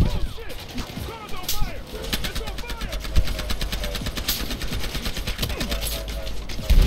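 Rapid automatic gunfire from the video game Battlefield Hardline on PC, on the Dust Bowl map in Conquest Large mode, rattles in dense sustained bursts, loud and constant, with a voice talking over the fighting.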